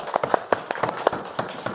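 A class clapping for a presentation in an Indonesian-language lesson: a handful of separate, sharp hand claps at an uneven rhythm, fairly close and moderately loud, from only a few people rather than a full crowd.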